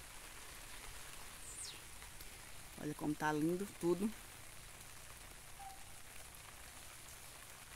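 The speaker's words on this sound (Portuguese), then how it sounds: "Muita chuva, viu? Muita chuva mesmo." Heavy rain falls steadily in the agreste of Pernambuco, Brazil, a soft constant hiss that fills the whole stretch while someone speaks briefly over it.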